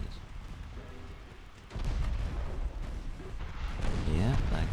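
A torpedo launches from a ship in the naval game Ultimate Admiral: Dreadnoughts, a heavy low rumbling burst that swells from about halfway through and holds, loud and dense, over steady ambient battle noise.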